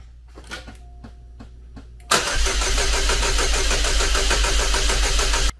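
A Chevrolet Cobalt SS engine cranks briefly with faint clicks, then fires and runs loudly at a steady idle for a few seconds before cutting off abruptly.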